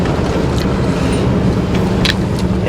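A Subaru WRX STI engine drones steadily while driving, a loud, continuous broadband road-and-engine roar heard from inside the car with no clear rev changes.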